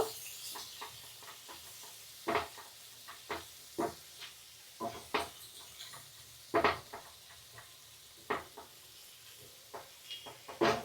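Chopped onion fries in a pan over medium heat, a steady low sizzle broken by a dozen sharp scraping knocks of a spatula stirring against the pan, close and moderately loud, with no talking.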